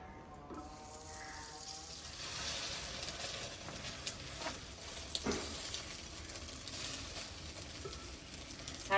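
Eggs frying on a griddle over a fire give a steady, faint hiss and sizzle with a few small pops, heard alone.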